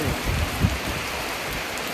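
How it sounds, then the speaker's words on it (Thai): Steady rain pours down in a constant, dense hiss with no voices, continuous from start to finish. "เจอฝนซะแล้ว"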